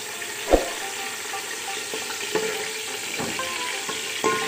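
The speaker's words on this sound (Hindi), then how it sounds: "ये देखें, गोश्त को मैं तल रही हूँ इसके अंदर" Meat frying in ghee for aloo gosht, a steady close broadband sizzle with a few sharp pops and clinks of stirring scattered through, no voices.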